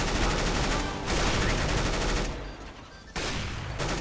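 Rapid automatic gunfire rattles in CS:GO deathmatch, dense bursts close and loud, broken by a brief lull before firing resumes.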